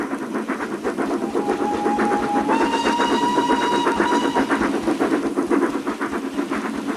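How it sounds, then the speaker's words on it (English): A model railway Battle of Britain class steam locomotive named Fighter Pilot hauls a string of tank wagons, giving a steady rhythmic chuff with hiss and a sustained whistle-like tone in the middle, loud and close. "Battle of Britain class locomotive named Fighter Pilot."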